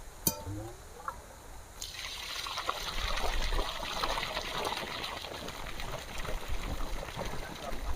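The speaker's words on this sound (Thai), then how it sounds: "ลองน้ำนะครับลองน้ำก่อนตั้งแผง เป็น แฮนดูโร่750 วัตต์ ท่อ 2 นิ้วนะครับ" Water from a Handuro 750W solar pump gushes steadily through a 2-inch pipe, starting after a brief click and filling the scene with a continuous broadband splash that grows slightly and holds, close and fairly loud.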